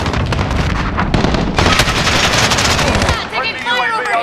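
Dense automatic gunfire in Call of Duty: Modern Warfare, rapid sustained bursts with heavy impacts and short pauses, close and loud, with voices faintly under the shooting.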